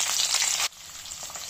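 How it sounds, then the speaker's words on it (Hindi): Chopped capsicum hits a hot pan of gravy base and sizzles loudly, then the frying drops sharply to a quieter, steady crackle, close by. "इसमें डाल देंगे अब हम ये शिमला मिर्च, इसको हम भूनेंगे अच्छे से"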